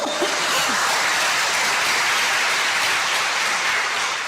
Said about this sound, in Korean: 박수 한번 쳐주셔요